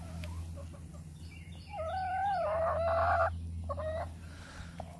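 A broody backyard hen clucks and croaks in drawn-out, wavering calls at close range, rising in the middle and then trailing off into short grumbles. A low steady hum sits underneath.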